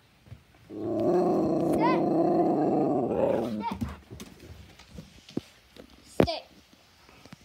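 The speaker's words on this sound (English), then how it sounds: "No growling." A dog growls low and steadily at close range for a few seconds, then stops, followed by scattered handling noises and a sharp knock; no speech over the growl.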